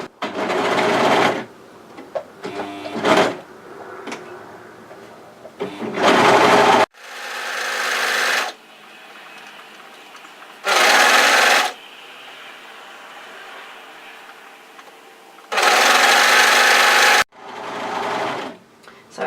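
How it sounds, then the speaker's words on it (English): An overlocker stitching an extension piece onto a hoodie hem runs in several steady, whirring bursts of a few seconds each, loud and close, with quiet pauses between them. "we want to overlock that together starting on the edge."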